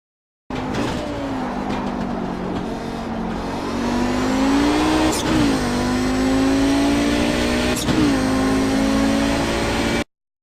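An Audi 90 GTO race car in the iRacing simulator laps Mid-Ohio in Kamel GT trim. A loud, steady engine drone climbs in pitch, broken by two sharp gear shifts, with faint tire noise and no talking.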